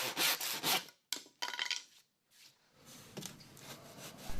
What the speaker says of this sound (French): Avec cette même scie, vous pouvez aussi scier le panneau sous le coin.